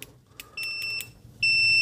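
A TOOLTOP ET8135 multimeter gives sharp, high electronic beeps during a continuity test, several short chirps followed by a longer sustained tone, close and clear with no talk.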